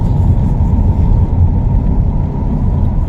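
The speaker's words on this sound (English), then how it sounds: "it does stutter every now and then like it is now" A 1973 Mercury Cougar XR7 cruises on the highway, its engine giving a loud, steady low rumble and road whir from inside the car, with no clear stutter standing out in this stretch.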